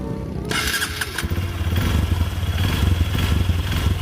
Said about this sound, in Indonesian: Kita coba nyalain starternya.